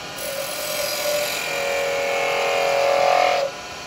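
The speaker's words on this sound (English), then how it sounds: "with this roughing gouge I can also roll a bead" Roughing gouge cutting a bead on a spinning wood lathe, a steady close whirring hiss with a high whine that rises slightly before stopping abruptly near the end.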